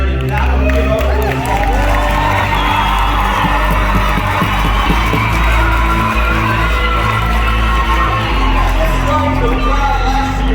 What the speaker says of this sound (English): Let's hear that cheering